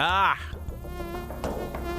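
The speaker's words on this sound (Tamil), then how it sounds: "ஒரு கொசு மேக கூட்டம் என் மேல மழையா பொழிஞ்சுக்கிட்டு இருக்கு" Swarm of mosquitoes buzzing in the Amazon rainforest, a dense close whine that opens loud and continues steadily throughout with no voices.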